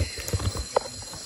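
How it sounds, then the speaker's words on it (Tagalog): Horse walking on a mountain trail at Mt. Marami in Cavite, a few close, distinct hoof clops in an uneven rhythm over light outdoor background. "First time na makasakay ng kabayo."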